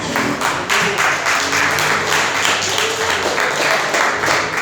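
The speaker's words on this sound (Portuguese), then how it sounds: "aplauda os céus bem forte" A church congregation applauding loudly, a dense continuous wash of clapping from many hands, close and sustained for the full length with a faint voice or two underneath.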